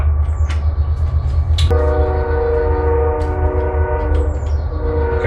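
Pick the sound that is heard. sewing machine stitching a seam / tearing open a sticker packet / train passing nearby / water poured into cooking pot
train passing nearby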